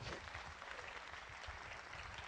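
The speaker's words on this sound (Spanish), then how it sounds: "Dele palmas al Señor." A church congregation claps steadily for about two seconds, a dense, even wash of many hands sounding moderately distant and fairly quiet, with no voices over it.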